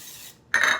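A quick burst of hissing spray from an olive oil pump sprayer, about a quarter second long, close and fairly loud, after a soft faint rustle.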